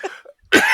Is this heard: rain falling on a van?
no